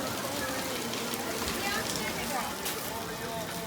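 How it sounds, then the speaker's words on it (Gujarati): Rain falls over a market street in Dwarka at night, a soft, steady patter and hiss heard fairly faintly, with a voice speaking over it. "શોપિંગ કરતાં કરતાં વરસાદ પણ ચાલુ થઈ ગયો દ્વારકામાં"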